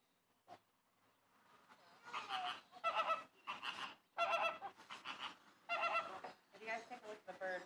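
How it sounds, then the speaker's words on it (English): Flamingos at a zoo give a series of loud honking, goose-like calls in bursts, several birds calling close together after a faint opening note. "We're going to have our flamingos out for just a couple more minutes here."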